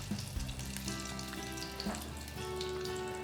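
Banana flower masala balls frying in hot oil, a steady close crackling sizzle that runs throughout, with faint background tones and no talking.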